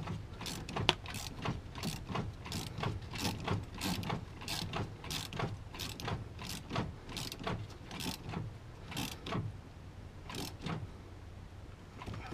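A Volkswagen Mk2/Mk3 shifter relay ball Delrin bushing being tightened with a tool, a steady run of sharp, evenly spaced ratchet clicks in quick succession, close and clear, with no talking.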